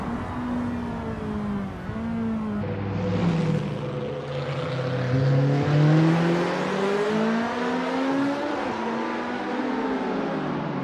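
1960s racing cars in the simulator game Assetto Corsa at Longford, several engines droning together at high revs, pitch rising and falling as they shift and pass, steady and fairly loud.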